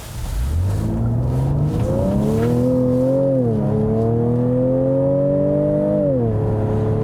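A heavy 2019 Ford Edge ST accelerates hard with an artificial, synthesized engine sound piped in, its tone rising smoothly through gears with two shift dips, loud and steady inside the cabin.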